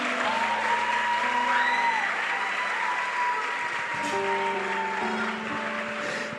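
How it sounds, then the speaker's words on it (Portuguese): A church congregation applauds during a sermon, steady and fairly close clapping that lasts throughout, with sustained organ or keyboard tones held underneath. "Aplaude se você acredita nisso."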